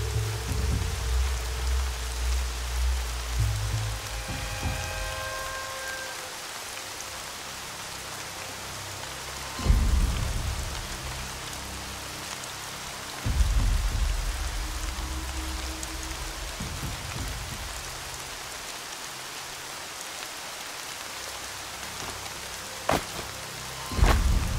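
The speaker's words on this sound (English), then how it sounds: "Rain's not so bad." Steady rain hisses throughout a Horizon Zero Dawn game scene, with several low thunder rumbles rolling in at intervals and a few faint electronic tones early on.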